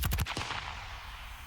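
A designed Modern Warfare gunshot body layer crushed with full OTT multiband compression: a loud, dense burst of rapid punchy shots followed by a long, heavily squashed tail that keeps a sustained roar before thinning out.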